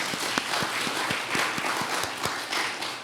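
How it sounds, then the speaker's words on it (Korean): A church congregation claps at a tenth-anniversary thanksgiving service, a dense wash of applause with a few sharp, louder individual claps standing out through the short burst. "박수를 한번 쳐드리고 싶고요."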